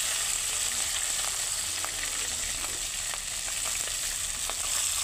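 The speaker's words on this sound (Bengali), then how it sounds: "এখন এক এক করে সবগুলো মুড়ো ভেজে নিই" Fish heads fry in hot oil in a continuous loud sizzle, with faint pops and spits breaking through now and then.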